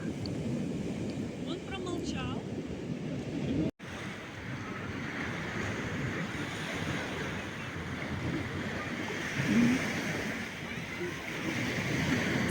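Sea waves roll onto Dolphin beach in Odesa as a steady wash of surf under gusty wind buffeting the microphone, with a brief dropout early on and a faint far-off voice.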